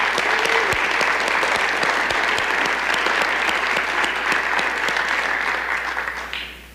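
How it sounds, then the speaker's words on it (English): Audience at a city State of the City event in Lakewood, Colorado applauds steadily for remarkable people, dense continuous clapping from a large crowd that fades out at the end. "I would love for all of us to give a round of applause for all these remarkable people"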